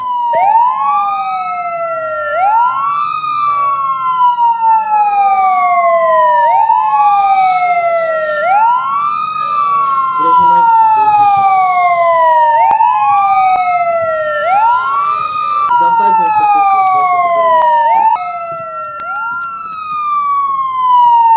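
A police car siren wails loudly and continuously in repeated rising and falling cycles during a chase of a black Mercedes, close and dominant over faint road noise.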